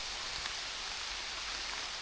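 Steady rain falls through a forest during a thunderstorm, a dense, even hiss of drops on leaves and ground with no breaks, close and enveloping.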